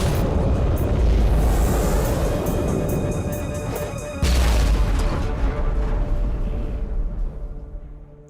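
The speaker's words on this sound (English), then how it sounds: "Inquisitor, the automatic defense system has been activated. The turrets are attacking you." Automatic defense turrets open fire in Warhammer 40,000: Inquisitor – Martyr, a loud, sustained barrage of booming cannon blasts with a fresh heavy volley midway before the noise slowly tapers off.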